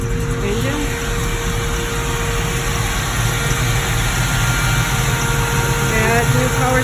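1938 Dodge Ram hot rod engine idling, a steady low rumble with a constant hum, close and continuous, with some faint speech-like sounds over it.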